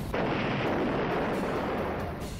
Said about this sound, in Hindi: रूस की सेना का जबरदस्त धमाका।